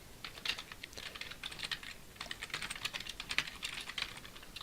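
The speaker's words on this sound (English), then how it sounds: "Hopefully my keyboard noise isn't as loud as it was the last time I did one of these." Computer keyboard typing, fast steady clicking of keys in quick bursts with short pauses, faint and close, with no voices.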